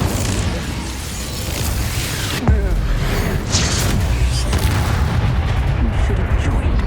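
A fiery spell in the Hogwarts Legacy video game bursts out with a heavy booming whoosh, followed by a sustained roaring rumble and crackling game effects.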